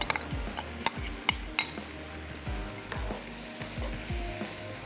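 A spoon stirs khoya into coconut milk in a cooking pan, the mixture sizzling softly under repeated sharp metallic clinks and scrapes against the pan, with no voices.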